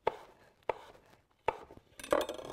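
A knife slicing an apple into half moons on a cutting board, four crisp, close chops spaced at irregular intervals, the last one followed by a brief clatter.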